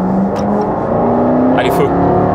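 A Jaguar Project 8 engine idling with light throttle, a steady low rumble with a slight rise in pitch, heard close under talking.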